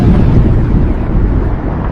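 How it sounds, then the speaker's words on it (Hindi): Thunder in a Hindi horror cartoon rolls across the sky as a loud, deep, continuous rumble, heavy and sustained before easing slightly, with no speech over it. "जिससे आसमान में और भी तेज गर्जन सुनाई देने लगी"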